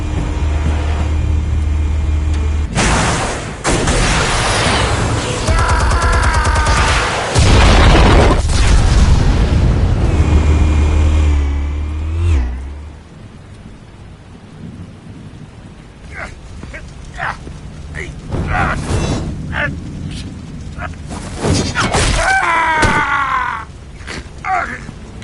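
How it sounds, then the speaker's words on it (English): Explosives detonating in a PS4 video game: long, heavy rumbling booms with crackling debris, loud and sustained, followed by quieter scattered impacts and clatter, with a voice talking intermittently over the noise. "Explosives armed. Fire when ready."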